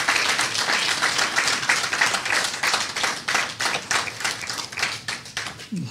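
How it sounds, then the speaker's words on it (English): Audience applause for Kendel Hippolyte at the Sir Derek Walcott Memorial Lecture 2022: steady, dense clapping from a crowd that holds for about six seconds and tapers off slightly near the end. "Can I get another round of applause for Kendel Hippolyte tonight?"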